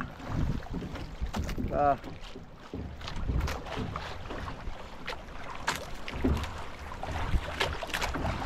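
Small fishing boat turning on choppy, windy water, with gusty wind buffeting and splashing around the hull, irregular knocks and thumps, and faint voices in the background.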